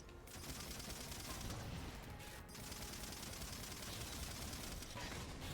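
Gunfire in the video game Halo 4, a dense rapid barrage of shots filling the whole stretch with brief dips, fairly quiet overall and with no talk over it.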